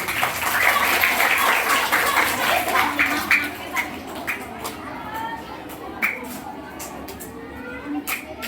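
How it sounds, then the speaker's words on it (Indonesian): Children clapping together in a classroom or storytelling session, a dense patter of applause that fades into scattered claps and quieter murmurs toward the end. "Tepuk tangan dulu biar temannya berani."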